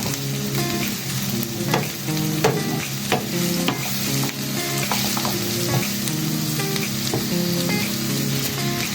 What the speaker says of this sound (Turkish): kavrulan soğanlarımızın üzerine şimdi de kırmızı biberlerimi ekliyorum ve kavurmaya devam ediyorum